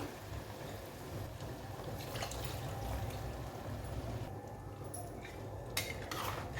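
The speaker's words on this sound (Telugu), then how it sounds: "ఇప్పుడు కూరకు సరిపడగా వాటర్ అనేది యాడ్ చేస్తున్నాం" Water is poured into a pot of crab curry as a soft, faint splash, with a few light clinks of utensils nearby.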